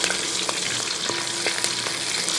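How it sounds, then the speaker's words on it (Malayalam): Garlic, ginger and green chili stir-fry in hot masala with a steady, loud sizzle, and a spoon scrapes and taps the pan a few times. "ഇനി ഇതൊന്ന് ഇളക്കി കൊടുക്കാം"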